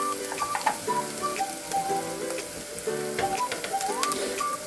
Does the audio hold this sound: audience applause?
no